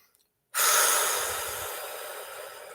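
After a short silence, one long, deep, breathy exhale sweeps in loudly and slowly fades, following a conscious breath drawn into the belly.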